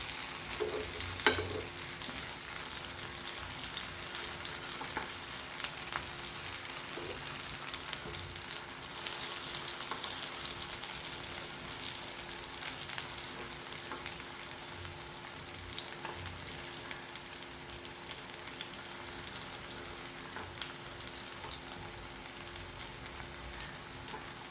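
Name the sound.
seer fish pieces frying in a pan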